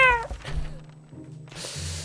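A cat in the survival video game 60 Seconds gives one clear meow, followed by softer purring or growling tones and a brief noisy burst near the end. All of it is heard close up without speech.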